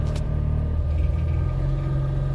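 A car engine runs at a steady low rumble close by, holding an even tone as it pulls away in first gear with a new clutch.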